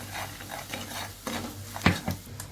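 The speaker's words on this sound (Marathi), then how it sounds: "त्यामध्ये लसूण एक चमचा धनिया पावडर आणि आपला घरचा मसाला आहे छान मिक्स करून घेऊ" Garlic, coriander powder and homemade masala are stirred in hot oil in a kadhai, with a spoon scraping and a soft sizzle, a few sharper knocks near the end, close and fairly quiet.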